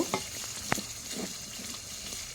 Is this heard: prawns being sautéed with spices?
yes